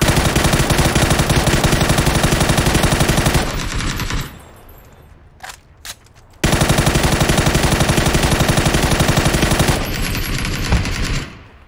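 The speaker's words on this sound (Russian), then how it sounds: "Стреляй, стреляй, стреляй." Rapid automatic gunfire in the video game PUBG, loud and continuous in two long bursts separated by a short gap with a couple of isolated shots.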